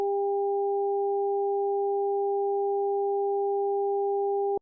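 Two steady pure tones from SuperCollider sine oscillators, a stronger 400 hertz tone at amplitude 0.2 layered with a quieter 800 hertz tone at amplitude 0.1, holding at constant loudness for several seconds before cutting off abruptly.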